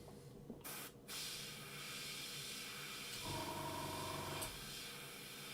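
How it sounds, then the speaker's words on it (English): Steady airbrush hiss spraying continuously, briefly interrupted near the start, then a soft motor-like hum joins the spray. "put a little bit in the cup and just see if this thing will spray all right"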